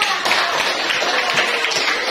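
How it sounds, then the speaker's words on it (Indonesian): A classroom of students clapping together during a lesson, a close, loud burst of dense hand claps sustained for about two seconds with no one talking over it. "Beri tepuk tangan dulu untuk semuanya"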